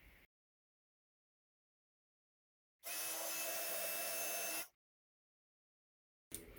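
A heat gun melts gold embossing powder on pink cardstock, giving a steady, loud blowing whoosh that runs for about two seconds and then cuts off. Silence surrounds the blast.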